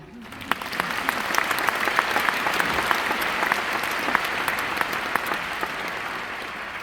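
Applause at the opening ceremony of the CHI 2025 conference builds quickly into a broad, sustained clapping from a large audience, with some individual sharp claps standing out over the steady roar.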